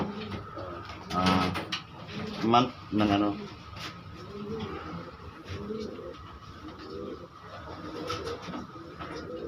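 Soft coos of racing pigeons murmur in the background beneath several people talking nearby, with low repeated cooing notes throughout.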